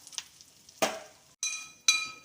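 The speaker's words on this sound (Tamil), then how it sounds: "பெருங்காயம் கொஞ்சம் போட்டு தாளிக்கணுங்க" Asafoetida hits hot oil while tempering coconut chutney, with sharp sizzling bursts, three loud crackling splutters separated by brief pauses.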